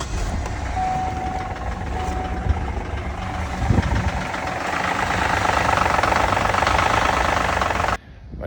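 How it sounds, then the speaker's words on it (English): A car engine run with no oil and left destroyed knocks and rattles steadily at idle, a loud, rough, continuous clatter close by that swells slightly before cutting off abruptly near the end. "This is the sound when you don't have oil in your car and you destroy the engine."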